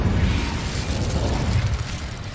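An Incendio fire spell cast in Hogwarts Legacy bursts out as a loud, close whoosh of crackling flame with a low rumbling body, sustained for a couple of seconds before easing slightly.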